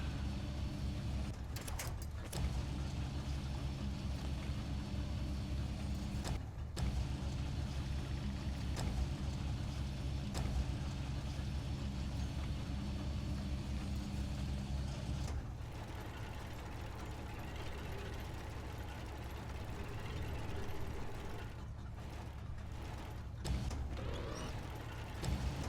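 An American truck's engine drones steadily while driving in the SnowRunner video game, a low, continuous rumble at moderate volume with brief mechanical clunks.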